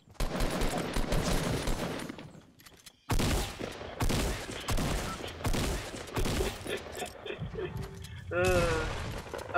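Rapid bursts of video-game gunfire from Fortnite crackle in loud, dense volleys with a brief pause near the middle, mixed with other in-game effects and a rising whistling tone near the end.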